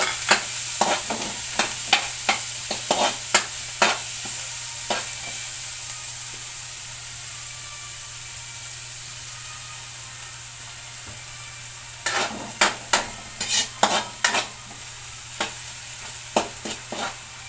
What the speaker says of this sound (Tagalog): Kaya po kailangan siya igisa para medyo lumambot po ng gusto. Lagay po natin yung sibuyas.